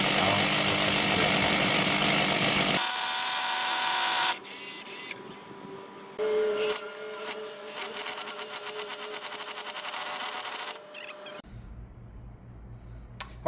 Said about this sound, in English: In this instance we're using the bigger hammer drill. The wall is about a foot thick, so we're using the big drill.